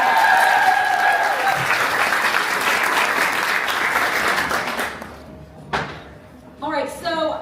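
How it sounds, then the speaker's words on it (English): An audience at an author event with three romantasy writers breaks into loud, sustained applause that fills most of the clip, then thins out into scattered clapping and a few thumps near the end. "Everyone give one more big round of applause for all of them."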